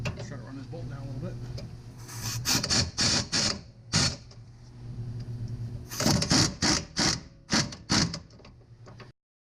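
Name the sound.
bolt being run down with a tool on F150 spring install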